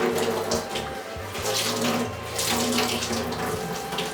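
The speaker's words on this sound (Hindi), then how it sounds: "पानी का कनेक्शन मैं जोड़ रहा हूँ यहाँ पे और इस नल को खोल रहा हूँ" Water rushes steadily from an opened tap through a UF water purifier, a close, continuous splashing flow with a low hum beneath, loud and unbroken throughout.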